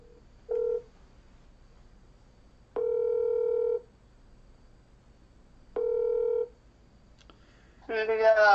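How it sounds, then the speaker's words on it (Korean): A telephone call is being placed: short ringing tones sound at an even spacing over a quiet line, and then a voice answers at the end. "우리 또 김은혜 목사님 전화를 또 드려가지고 도대체 어떤 상황인가 이거를 좀"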